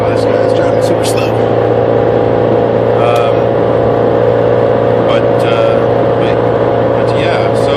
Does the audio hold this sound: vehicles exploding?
no